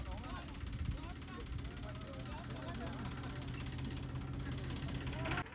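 A tractor engine idles with a steady low throb, one of a long convoy hauling dry jowar fodder for cows; voices murmur faintly underneath.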